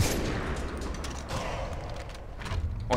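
Bursts of Far Cry 3 multiplayer gunfire, several sharp shots with mechanical clatter over a dense, noisy game soundscape.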